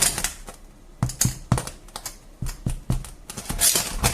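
A series of light, hollow taps and knocks on the firm crust of a freshly baked bread loaf, irregular and close up, with quiet pauses between clusters.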